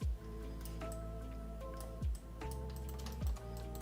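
Computer keyboard keys pressed during a casual live drawing session, a steady soft patter of close, light clicks with a few heavier thumps, over a faint background hum and no talk.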